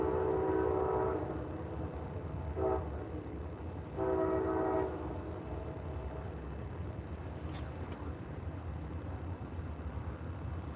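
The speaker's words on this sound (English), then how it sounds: "I hear a train coming." A train sounds its horn near the Ohio River during a night of catfishing: a long blast, a short toot, then another long blast over a steady low rumble of rolling rail cars.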